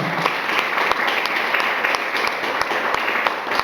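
A church congregation applauds during an Easter Sunday service, a steady wash of many hands clapping close and fairly loud for the whole stretch, with no talk over it.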